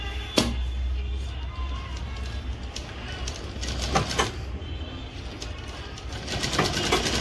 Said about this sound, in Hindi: ये देखो, हम सिलाई लगा रहा है